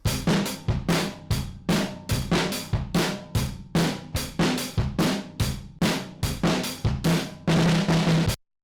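Punchy, crunchy drums pound in a steady driving beat, each hit gritty and saturated, loud and close, ending with a sustained smashed cymbal before cutting off.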